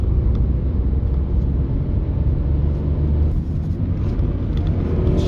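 A Tata Altroz iTurbo hatchback's turbocharged engine hums steadily from inside the cabin as it downshifts through a 90-degree turn, a constant loud low drone with road rumble and no voices.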